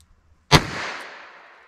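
A single loud, close crack from a .32 caliber break-barrel air rifle follows a moment of near silence, then a ringing tail slowly dies away.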